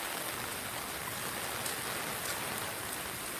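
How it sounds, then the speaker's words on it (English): A heavy nighttime downpour drums on surfaces just south of downtown Bend, a constant, close hiss of falling water with runoff, even and uninterrupted, with no voices. "I've never seen so much rain, you guys."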